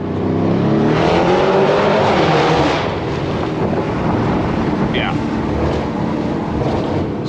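Mansory Venatus Lamborghini Urus revving hard, a loud, raspy exhaust blare that swells and then settles into a rumbling drone, with wind buffeting the microphone.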